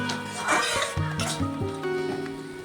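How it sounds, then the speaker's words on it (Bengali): Fried prawns tipped into a simmering ash gourd curry and stirred, giving a steady close sizzle with intermittent scraping and clinks of a spoon against the pan. "এখন আমি ভেজে রাখা চিংড়ি মাছটি দিয়ে দেব।"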